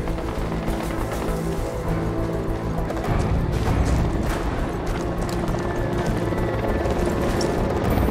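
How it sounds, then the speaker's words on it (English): An enemy helicopter in Ghost Recon Wildlands thuds overhead with a steady rotor drone that swells louder midway, dominating the mix with scattered game effects beneath it. "Unidad chopper, stay low."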